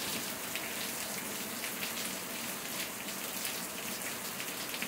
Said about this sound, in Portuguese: Chuva boa de verdade